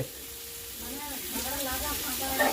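Pumpkin pieces frying in a pan give off a soft, steady sizzle that stays close and fairly quiet from start to finish.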